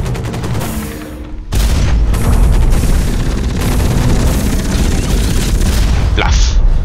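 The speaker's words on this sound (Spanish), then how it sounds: "mi segunda arma es un cañón de combate que necesita un tiempo para recargar" Combat cannon and rapid weapon fire in the mech shooter game Hawken, loud dense bursts of booming shots and rattling fire that start after a brief pause and continue almost without break.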